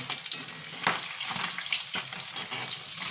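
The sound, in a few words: pabda fish frying in a pan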